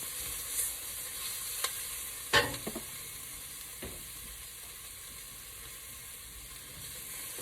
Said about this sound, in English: And our Italian seasoning, and we'll just stir it around there.